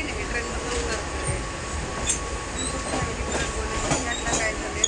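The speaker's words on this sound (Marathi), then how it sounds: "ट्रेनमधनं उतरतोय." A suburban train pulls into Churchgate station with a steady rumble and rail noise throughout, faint wheel squeal and clatter riding on top, and scattered voices murmuring in the background.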